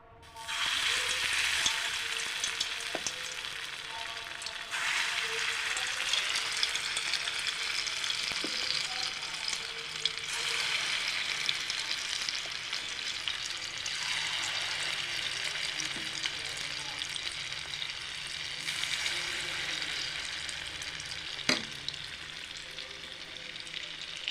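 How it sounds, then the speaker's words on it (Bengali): Khesari dal fritters fry in oil in a wok, giving a steady, dense sizzle across the whole stretch with a few faint clicks and no talking. "বড়াগুলো দিয়ে দিচ্ছি,"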